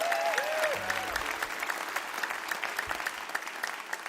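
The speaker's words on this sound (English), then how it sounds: "we want to give them a huge round of applause" Audience applause for the crew at a Mountain Stage live music show, a steady crowd clapping heard at moderate distance, with a brief tonal sweep near the start.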